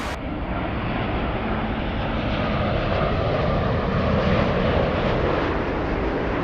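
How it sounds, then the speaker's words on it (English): A Delta Airbus A350 airliner from Haneda coming in to land, heard as a loud, broad, steady jet roar that holds throughout without a break. "And the big Delta from Haneda, the Delta A350 behind this one."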